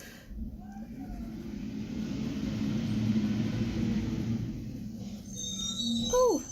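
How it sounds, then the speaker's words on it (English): A garbage truck rumbles outside, a low heavy engine drone swelling and holding for several seconds at a moderate distance, with a voice briefly heard near the end. "Oh, and that's the garbage truck, so if you can hear that, that's what that loud noise is."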